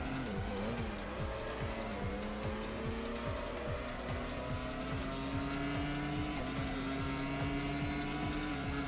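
Formula One cars in the PS2 racing game Grand Prix Challenge scream along with steady high engine whine, repeated gear-shift drops and faint tyre squeal, continuous and close throughout.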